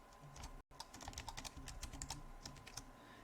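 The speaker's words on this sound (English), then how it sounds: "And then maybe I type some text here." Keystrokes tapped out on a computer keyboard while text is entered in Minecraft Education Edition, a steady run of close, light clicks with one brief dropout early on.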